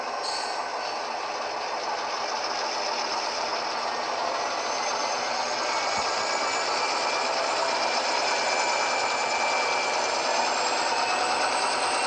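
Model train locomotives throttling up on a helix layout, producing a continuous, even engine drone with a faint high whine and rushing hiss, steady and moderately quiet with no voices.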